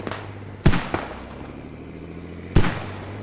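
Mortar rounds in the video game Squad go off as two sharp, booming reports about two seconds apart, each followed by a short fading rumble over quiet background.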